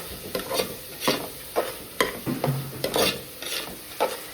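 Masala with garam masala and turmeric frying in a pan, close rhythmic scraping and stirring strokes about every half second over a light sizzle, no talking.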